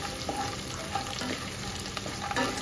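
Cashews and peanuts frying in hot ghee over a medium flame, a dense, close crackling sizzle with light stirring scrapes throughout and no voices.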